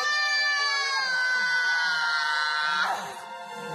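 A woman in childbirth, pushing, lets out a long, sustained high-pitched scream that strains and wavers, then breaks off into a ragged, breathy cry.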